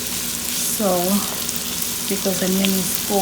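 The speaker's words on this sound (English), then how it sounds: "So while our onion is cooking," Onion cooking in a pan on medium-high heat for Saudi kabsa, a faint steady sizzle running under someone speaking.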